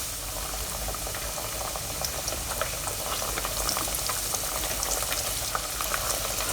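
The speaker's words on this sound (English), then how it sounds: "We'll be doing a double fry on this so that this will be super crispy." Thin pieces of pork deep-frying in a pan of hot oil, two or three at a time, giving a steady close bubbling sizzle with scattered crackles and pops, no voices.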